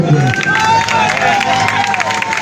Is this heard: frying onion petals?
no